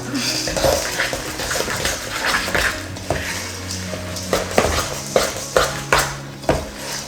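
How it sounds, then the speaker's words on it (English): A spoon stirs oats into a mashed banana mixture for breakfast cookies, scraping and clattering against the bowl, with several sharp, fairly close knocks repeating toward the end. "You're gonna add in your 3 cups of oats. Stir that all up."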